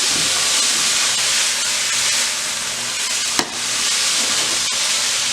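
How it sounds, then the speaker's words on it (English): Vegetables are tossed in a hot stir fry pan, giving a loud, continuous sizzle and hiss with a short clatter of the toss partway through. "Quick toss of the veggies."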